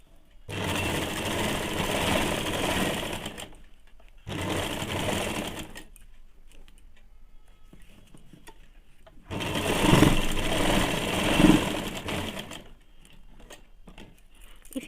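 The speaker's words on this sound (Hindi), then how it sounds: "अब इलास्टिक के ऊपर सिलाई चलाना है" A sewing machine runs stitches along the elastic of a pair of ladies' pants in three steady bursts, the last one longest, with quiet pauses between.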